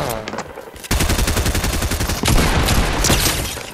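Loud, rapid bursts of gunfire in a shooter video game, a fast rattling volley that starts abruptly and keeps up for several seconds, close and dominant.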